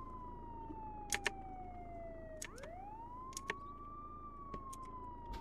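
A police car siren in a video game wails in long rising and falling sweeps, steady and moderately loud, with a few sharp clicks scattered over it and no talking.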